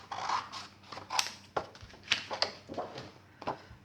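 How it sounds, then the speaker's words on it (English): Scissors snip a paper circle for covering an embroidery hoop, with a series of short, close crisp cuts and paper rustles at an irregular rhythm. "then I use my scissors to cut out a circle"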